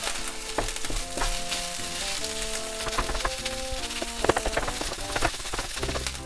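Chicken fried rice with egg is stir-fried in a pan, with a steady sizzle under repeated scraping and knocking of a utensil as clumps of rice are broken up, and some tonal clinks along the way.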